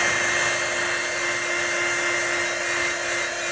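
A hair dryer blows on air dry clay, a steady, close, loud whirring hum with a constant pitch and no pauses.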